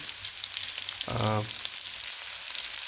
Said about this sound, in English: I'm cooking it in the oil from the sardines.